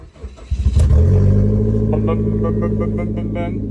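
A used car's engine cranks with a few rapid chugs and catches into a deep, steady idle rumble, heard up close, with faint voices in the background.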